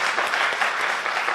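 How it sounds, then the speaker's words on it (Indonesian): Congregation clapping during a church worship service in Batam, a steady dense applause throughout with no voices over it. "Beri tepuk tangan lagi buat Tuhan kita."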